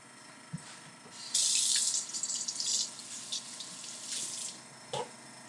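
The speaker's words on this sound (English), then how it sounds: "Let me wash my hands since I touched the bacon." Tap water runs steadily into a kitchen sink as hands are washed after handling bacon during a truffle pancake cooking demo, a broad close hiss with a few small splashes and clinks.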